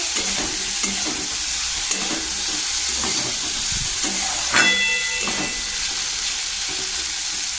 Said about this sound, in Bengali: আগে সবজিগুলো ভাজা করে নিচ্ছি।